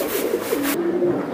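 Racer pigeons coo in soft, low rolling phrases, close by, with a steady background hiss and a brief shift in ambience partway through.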